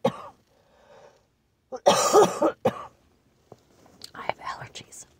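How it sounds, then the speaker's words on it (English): A single short, close cough, with a throat clear and soft whispering before and after it in a quiet room. "For a cough."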